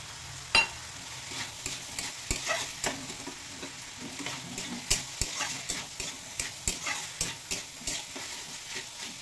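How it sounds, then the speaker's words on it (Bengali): Chicken mince and jackfruit stir-frying with spices crackle and sizzle in a pan, while a spatula scrapes and knocks in a fairly regular rhythm of sharp strokes from start to finish. "মশলার সঙ্গে চিকেন কিমা ও তেটা ইঁচড়ও চিকেন কিমা কষিয়ে নেব"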